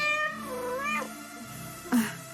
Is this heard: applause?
no